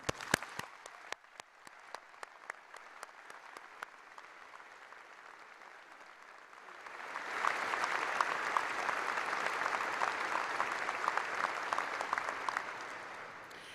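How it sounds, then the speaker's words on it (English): Crowd at a new student convocation and family welcome breaking into applause, starting as a few scattered claps, then swelling into full, sustained clapping that continues to the end without talk. "Let's give them a round of applause."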